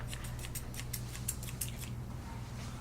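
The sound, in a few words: thinning shears cutting Westie dog hair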